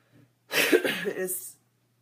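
A single harsh, raspy cough burst lasting about a second, close by, preceded by a faint breath.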